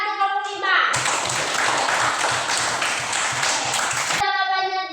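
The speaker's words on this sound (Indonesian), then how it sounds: "tepuk tangan untuk kelompok 5" Classmates applaud a student group in a school lesson, a sudden burst of brisk, dense clapping that lasts a few seconds, bracketed by a voice speaking just before and after.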